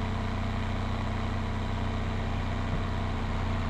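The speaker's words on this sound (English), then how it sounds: "So let me bring the tractor back." A tractor engine in a farming video game runs at a steady, droning idle, loud and close, with a constant low hum and no variation or talk over it.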